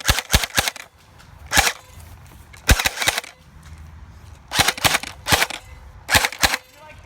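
Airsoft guns firing during a one-on-one match in a local park in Myrtle Beach, SC: sharp snapping shots, some single and some in quick bursts of two or three, spread across the clip with quiet outdoor ambience in between.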